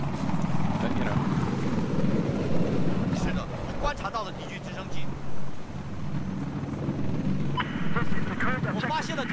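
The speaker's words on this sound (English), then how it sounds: "I think a attack chopper wants to kill me now." Attack helicopter in the Battlefield 4 video game, a steady loud rotor and engine drone running throughout with gunfire-like bursts and game effects, while a player talks over it.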